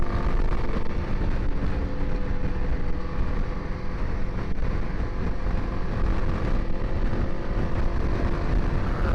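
A Kawasaki KLX 300 dual-sport motorcycle runs at full throttle up a small hill at around 60 mph, its steady engine drone mixed with heavy, constant wind rush across the mic for the whole stretch.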